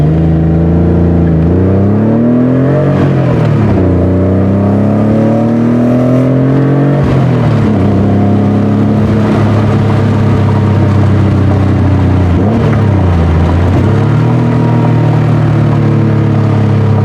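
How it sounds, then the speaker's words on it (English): A Porsche 911 accelerates with a deep exhaust rumble. The engine note rises steadily through several gears and drops back at each shift, loud and close inside the car, with no talking. "You can kind of hear some of the exhaust, the rumble back, and maybe get a sense of the acceleration."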